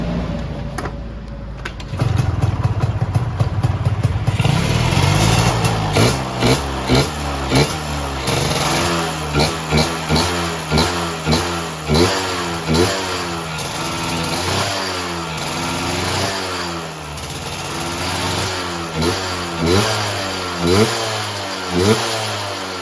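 A Kawasaki Ninja motorcycle engine fitted with a VM28 carburetor idles, then revs repeatedly in short, punchy bursts, loud and close with no talking.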